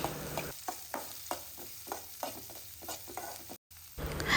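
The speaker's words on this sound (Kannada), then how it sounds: "ಒಂದು ಆನಿಯನ್, ಒಂದು 3 ಇಂದ 4 ಗ್ರೀನ್ ಚಿಲ್ಲೀಸ್ ಎಲ್ಲ ಹಾಕಿ ಚೆನ್ನಾಗಿ ಫ್ರೈ ಮಾಡಬೇಕು" Onion and green chillies fry in a pan with a steady sizzle, broken by regular scraping stirs of a spatula, close and fairly quiet, with no talk.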